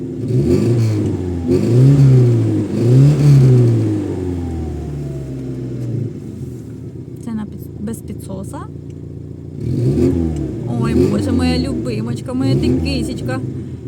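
A VAZ 2105 car engine, its ignition timing being set by hand, revs up and down in surges, its rough hum rising and falling, while people talk nearby between the revs.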